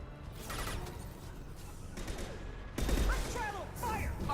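Rapid gunfire in Mass Effect Legendary Edition 2 on insanity difficulty, with dense crackling bursts over a rumbling battle bed that grows louder midway, mixed with faint voices.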